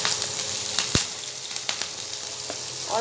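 Dried red chillies, asafoetida and green chillies fry in hot oil with a close, steady sizzle, scattered pops and crackles, and a short louder hiss near the end.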